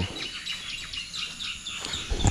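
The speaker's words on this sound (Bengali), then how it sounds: "পাখির কিচিরমিচির শুনতে পাবেন।" Birds chirp repeatedly around an abandoned, overgrown zamindar estate in the afternoon, with several bright tweets coming close together over quiet green surroundings.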